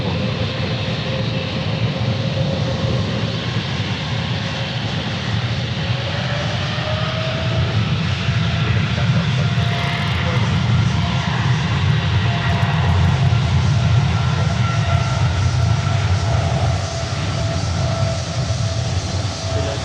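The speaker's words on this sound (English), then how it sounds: "Notice the different sound when the 777 takes off." Boeing 777 jet airliner taking off at Memphis International Airport, a loud, sustained engine roar with a rumbling low end and a slowly rising whine that holds steady throughout.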